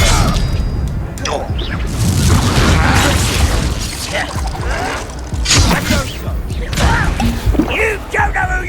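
Fiery Confringo spell blasts from the Hogwarts Legacy video game, a dense run of booms, whooshes and crashing impacts layered over continuous combat noise, with voices talking throughout.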